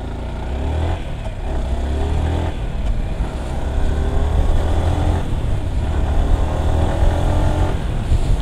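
New red Yamaha R15 V4 motorcycle engine running and revving, a loud, close, continuous roar that swells and dips over several seconds, with no talk.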